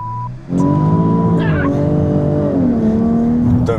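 A race car's engine roars loudly and close from inside the cockpit, its revving note climbing steadily, then dropping at a couple of gear changes before rising again.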